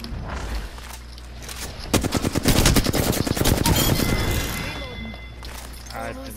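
Rapid automatic gunfire erupts in the battle royale game Apex Legends, a loud burst of close shots lasting about two seconds amid ongoing game noise, followed by fainter scattered shots.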